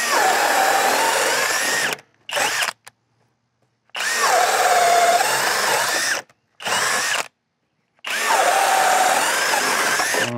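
A drill with a very sharp cutting bit bores a 1-inch hole in three loud, steady runs of two to three seconds each, separated by brief bursts and short silences, with no voices.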